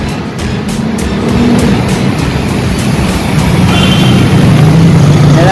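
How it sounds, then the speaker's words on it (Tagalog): Dense road traffic near a flyover on the way to Baclaran, Manila: a steady, loud roar of many cars and engines with passing vehicles, recorded on the move without talking. "Medyo ang daming traffic"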